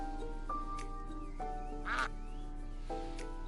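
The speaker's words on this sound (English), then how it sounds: "You're just gonna hear duck quacks." A duck gives a few scattered quacks, spaced about a second apart, over a steady background hum, with one louder, rasping quack in the middle.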